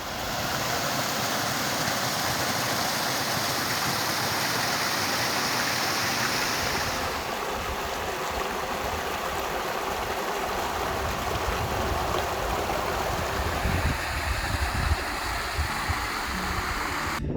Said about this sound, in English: Here's the creek that feeds in to the top of that section of water we were just looking at.